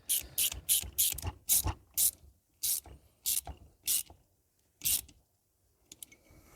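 Ratchet wrench tightening a bolt on a Derbi Euro 3 moped engine during a top-end rebuild, a series of about ten sharp clicking bursts in quick uneven rhythm, close and fairly loud, with no talk over it.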